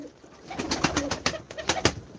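A grey girganat pigeon, a game pigeon breed, coos close by in a rhythmic run of throaty pulses that swell and fade over about two seconds, with no voices.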